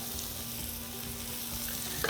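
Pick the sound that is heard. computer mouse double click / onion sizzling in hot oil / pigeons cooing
onion sizzling in hot oil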